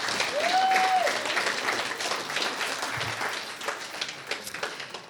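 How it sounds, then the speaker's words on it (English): Wedding guests at a country club reception give a sustained round of applause, dense crowd clapping with a brief whistle near the start, gradually easing off. "please can we give them a massive round of applause for putting this together so beautifully"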